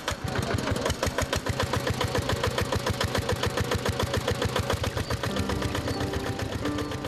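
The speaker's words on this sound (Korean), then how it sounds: "저 멀리 수로에 연결된 파이프를 끌어다가 펌프에 연결해 엔진을 돌린다." A motorized water pump engine runs steadily beside an irrigation canal on a sugarcane farm, its fast, even chugging pulse loud and close throughout with no pauses.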